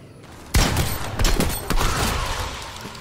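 Sudden loud burst of gunfire in a video game, with a sharp crack followed by rapid repeated shots and a rolling, fading tail of further fire.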